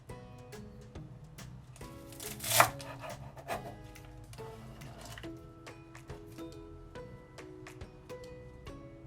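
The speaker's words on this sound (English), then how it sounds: "So first of all, we're going to cut off the stems, as these are the tough parts and we don't want these in the dumplings." A knife cuts the tough stems off Chinese chives on a board, giving a quiet run of quick, irregular chops with one louder, scraping cut partway through.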